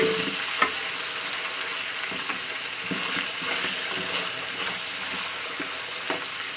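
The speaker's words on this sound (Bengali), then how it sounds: "দিয়ে এই তেলে আমি আলু কটাকে ভেজে নেবো" Potato pieces fry in hot oil, a steady close sizzle with scattered crackles and a few spoon scrapes and clinks against the pan.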